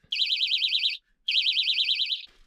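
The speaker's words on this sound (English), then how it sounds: "Got a little bite alarm set up." An electronic bite alarm on an ice fishing rig beeps in two loud, close warbling bursts, each under a second long, with a short gap between them.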